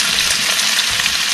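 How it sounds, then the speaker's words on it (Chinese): Pork pieces pan-frying in a wok to render lard give a loud, steady, dense sizzle and crackle, close up and continuous with no talking. "唔系炸，我哋煎咗啲猪油出嚟先"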